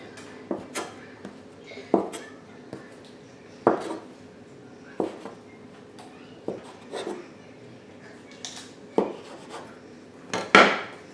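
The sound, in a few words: cutting bread roll dough into pieces with a floured tool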